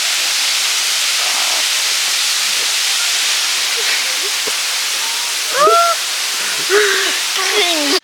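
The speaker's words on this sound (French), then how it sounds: "nous sommes à côté de la première cascade de Minka" The first waterfall at Minca pours with a steady, broad rushing hiss that fills the scene throughout, with a few faint, brief chirps or voices rising above it near the end.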